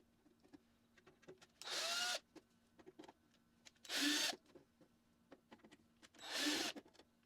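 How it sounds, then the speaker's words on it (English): A power screwdriver or drill takes screws out of the control panel of a Skutt kiln in three short bursts of whirring, separated by quiet pauses with light clicks and handling. "So I'm going to take out those screws."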